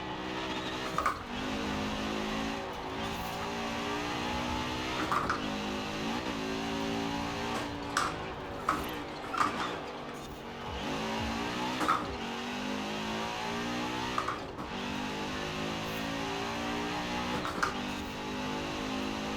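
A heavily modified street car of over 4,000 pounds with 850 horsepower, driven in Forza Horizon 4, holds a steady loud engine drone that climbs through the gears, with a few short shifts or bumps and no talking.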